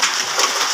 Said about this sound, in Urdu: یہ برس رہے ہیں اولے